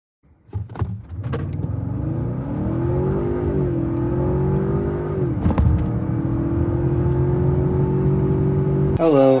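A Ford Fusion's 2.7-liter engine revs hard and holds a loud, steady roar with rising and falling pitch, close by, ending in a brief burst of noise.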